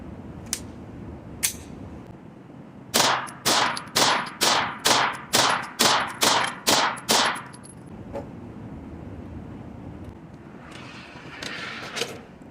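A Sig P365 Micro pistol fires ten rounds of silver tip ammunition in a quick, steady string of sharp, loud cracks, preceded by a couple of isolated clicks and followed by faint metallic handling sounds.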